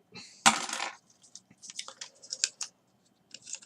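Plastic swords are pulled out of a Transformers Age of Extinction Dinobot Strafe toy, a burst of rustling followed by a string of small plastic clicks and taps, close and quiet.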